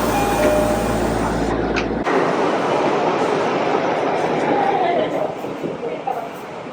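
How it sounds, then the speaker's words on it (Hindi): A Tokyo metro train during a typhoon: a loud, close rumble of the train that drops off sharply after about two seconds, leaving a softer hum and rattle, with a voice talking over it. "फ़िलहाल ये आ चुकी है मेरी ट्रेन, इसमें चढ़ते हैं"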